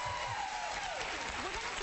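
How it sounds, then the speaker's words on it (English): Studio audience applause on a morning talk show, a short dense even wash of clapping with a voice faintly over it. "So thank you, Selena, for giving me a little applause"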